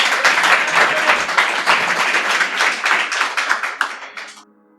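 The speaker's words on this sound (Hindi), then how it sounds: "तालियों से स्वागत कीजिए एक बार" Audience at a Hindi poetry recital gives dense, loud applause to welcome a first-time poet, many hands clapping steadily before thinning and fading out near the end.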